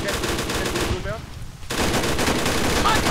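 Grenade blasts and automatic gunfire in the Arma 3 military shooter, loud and continuous with a short lull in the middle before the firing resumes at full intensity.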